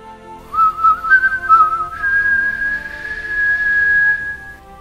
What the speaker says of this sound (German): Er eine sanfte Melodie pfiff